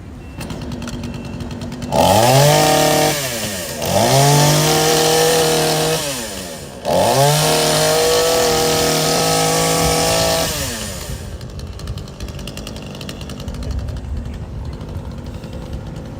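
A chainsaw revs loudly in three long bursts, its engine note dropping and climbing between pulls, then cuts back to a low idle rumble.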